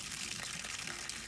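Water is poured into the cooling system of a Frandee Sno Shu Model E snowcat under restoration, a steady, close gushing flow throughout.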